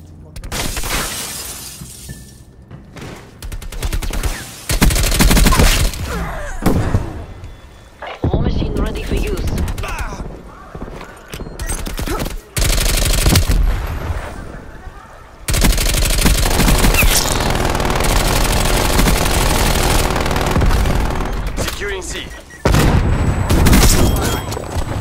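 Bullfrog submachine gun fire in a Call of Duty Cold War match, with loud rapid bursts and sustained automatic volleys broken by short pauses, close and dominant over game sounds.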